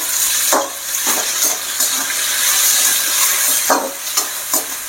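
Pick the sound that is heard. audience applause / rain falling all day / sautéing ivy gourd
sautéing ivy gourd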